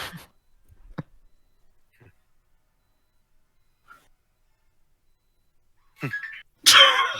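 A sharp sneeze bursts out near the end, following a quieter breathy catch, with mostly silence and a few small noises before it.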